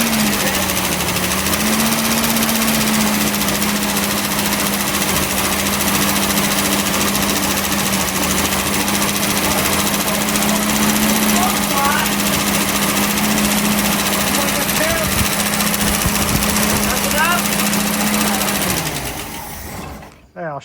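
A 1965 Ford Mustang engine running rough and needing tuning, a loud steady close-up drone with a rattling, uneven edge for about twenty seconds before it cuts off.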